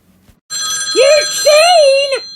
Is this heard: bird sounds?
no